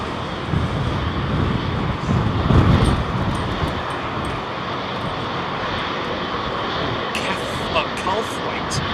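A jet airliner taking off close by at London Heathrow Airport gives a loud, broad, steady roar lasting throughout, swelling briefly near the start, with wind noise and a voice talking over it.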